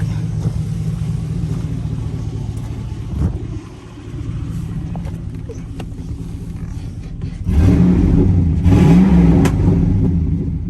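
A truck's brand-new 5.3L LS V8 revs in rumbling bursts, loud and close, with a rising pitch sweep near the end and a brief spoken word.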